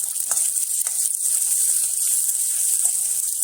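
Chana dal and onion frying in oil over a low flame, a steady soft sizzle with faint occasional stirring scrapes, close and unbroken.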